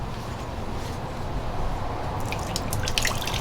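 A soaked cotton t-shirt prepared for tie-dye being twisted and wrung out, water dripping and splattering steadily, close by, with a few sharper drips near the end.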